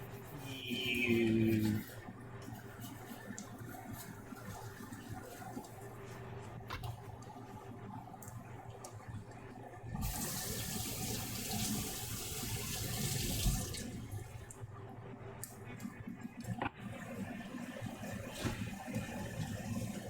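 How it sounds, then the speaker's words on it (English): Kitchen tap running steadily over a knife being rinsed of sticky garlic, a continuous close splash of water with a brief louder surge near the start and again midway. "Give the knife a rinse off here too while we're at it"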